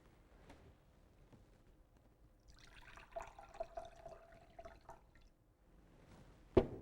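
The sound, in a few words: water poured into a measuring cup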